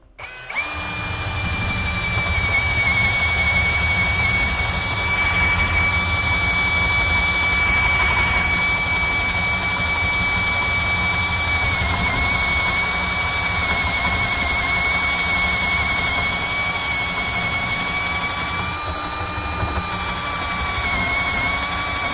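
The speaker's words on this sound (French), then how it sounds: "Alors maintenant on va essayer la mèche de 18 mm, donc la mèche à bois." Makita DHP481 cordless drill at maximum speed in drilling mode, boring with an 18 mm wood bit: a loud, steady, high motor whine held without a break for over twenty seconds, with no talking.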